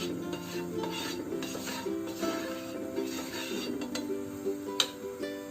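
Metal pan set on a gas stove and oil spread across it for bread uttapam, close scraping and rubbing with light clinks of utensil against pan.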